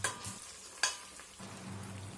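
Pureed tomato being stirred into a frying mutton yakhni biryani base in a pan, giving a soft continuous sizzle with scraping stirs and one sharper clatter, close and alone without talk.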